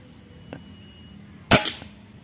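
A single sharp gunshot cracks at a zeroing target 20 away, loud and close, after a faint earlier click, with a short decaying tail.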